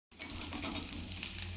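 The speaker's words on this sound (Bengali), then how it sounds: "পেঁয়াজটা দিয়ে একটু ভেজে নিচ্ছি।" Onion frying in hot oil with whole cumin seeds for a Bengali dish, a steady close sizzle with crackling spatter that starts abruptly and continues evenly, no voices.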